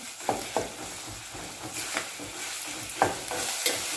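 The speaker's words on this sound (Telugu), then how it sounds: "అల్లం వెల్లుల్లి పేస్ట్ కూడా వేసి పచ్చివాసన పోయేంత వరకు కలుపుకోవాలి." Ginger garlic paste sizzles in a hot pan while a spoon scrapes and stirs it, giving a steady frying hiss broken by a few sharp clinks, close and alone.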